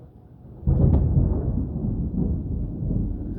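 Thunder rumbles after a lightning strike during a hailstorm, a loud low boom breaking in suddenly and rolling on steadily to the end with no talk over it.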